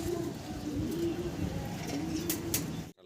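Fancy pigeons on a farm cooing: low, rolling, continuous coos close by, with a few faint chirps above and a brief cut at the end.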